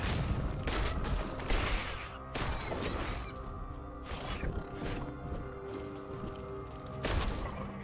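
A carpet bombing attack in Tails of Iron 2 sets off repeated explosive bursts in irregular waves, loud and close over a musical game backdrop.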